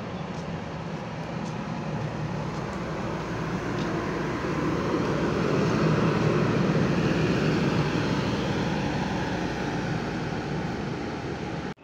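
Buses pulling out of the Purabaya Bungurasih bus terminal exit in Surabaya, a steady broad engine rumble that swells slightly mid-way, continuous traffic noise with no talk.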